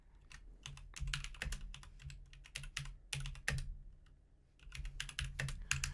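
Computer keyboard keys clatter in quick, irregular bursts as sample file names are typed, close and fairly quiet, with a brief pause midway and no voices.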